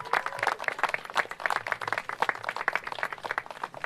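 An audience at an event with the Black Eyed Peas and the mayor applauds, moderately loud, uneven clapping that carries on steadily with a few louder bursts.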